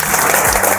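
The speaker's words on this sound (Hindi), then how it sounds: "अपने लिए जोरदार तालियां बजा दो।" Dense, loud audience applause fills a hall at an RCM business motivational seminar, a steady wash of many hands clapping for the whole short moment with no voices over it.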